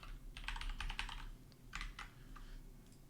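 Quiet typing on a computer keyboard, with a quick cluster of key taps, a brief pause, then a few more scattered clicks, close and faint.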